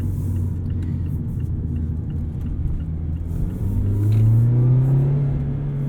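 A 2019 Mazda MX-5 Miata RF Club's engine pulls steadily, a low droning rumble that rises in pitch and loudness toward the end as the car accelerates, heard from inside the cabin with no talking.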